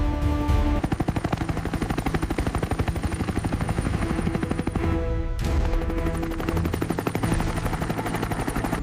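Army helicopter rotor thudding steadily and loudly throughout, a dense rhythmic chop with engine whine, close overhead in a jungle area, no speech.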